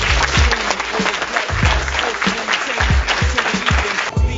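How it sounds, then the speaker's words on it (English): A crowd at a retirement party bursts into loud, dense applause, a continuous roar of clapping with voices mixed in underneath, fading slightly near the end. "I personally give a round of applause."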